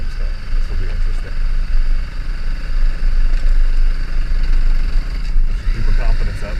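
A kid's small dirt bike idles off road on a hill-climb trail: a steady, low mechanical hum runs throughout at a constant level, fairly close, with faint rough flutter and no revving.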